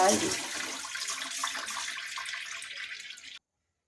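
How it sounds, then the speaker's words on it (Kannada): Rice being washed with water at a home kitchen, a close rushing splash of running water that fades slightly before cutting off abruptly near the end. "ಒಂದೆರಡು ಸಲ ನೀರು ಹಾಕಿಬಿಟ್ಟು ತೊಳ್ಕೊಳ್ಳಿ"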